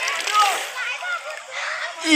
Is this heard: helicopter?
no